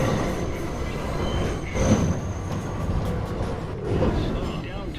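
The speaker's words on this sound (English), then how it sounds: "Local 1 train approaching the station." NYC Subway R62 local 1 train rumbling into the station, a steady rolling roar with clattering wheels and rising bursts of noise, no talk.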